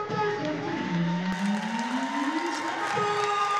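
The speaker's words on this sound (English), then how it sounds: "A round of applause, and rightly so." A kickboxing arena crowd claps and cheers after an ISKA 60kg intercontinental title fight, a dense roar with whoops over it, while a rising tonal sweep and a loud voice cut through the noise.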